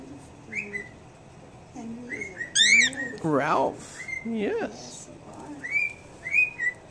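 A pet bird in Warminster whistles and chirps in short, rising and falling phrases, loud and close, as a person speaks briefly in between.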